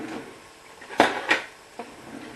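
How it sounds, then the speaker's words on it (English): A metal baking pan handled in a home kitchen while making cinnamon rolls, a few sharp clanks and knocks spaced apart, close and fairly quiet, with no speech. "So here's my baking pan to put it all in."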